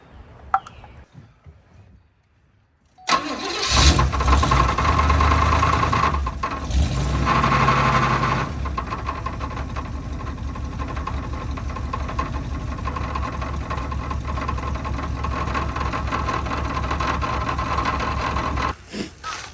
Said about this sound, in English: It sounds like there's a bolt that's just like hitting as it comes around.